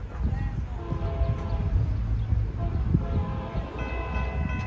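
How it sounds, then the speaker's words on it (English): Susquehanna SU 100, an eastbound freight led by two SD70M-2 locomotives with four cars in northern New Jersey, rumbles steadily and fairly loudly, with sustained horn tones sounding over the engine noise throughout. "SU 100 going east. 2 SD70M-2s and a whopping 4 cars."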